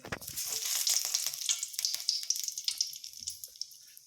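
Garlic dropped into hot coconut oil with browned onions in a pan sizzles loudly and steadily close up, a dense crackling hiss that eases slightly toward the end.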